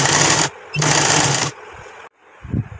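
Electric sewing machine stitching the side seam of a circular umbrella plazo in two loud bursts of rapid whirring, each about half a second or longer, followed by quieter handling noises.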